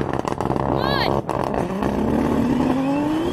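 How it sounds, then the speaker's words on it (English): A race car launch from a GTR using the launch button: a loud engine rev sweeps up as the wheels spin briefly off the line, with a short whine early on. A voice talks over the launch. "Once again, spinning its wheels a bit, but here we go now."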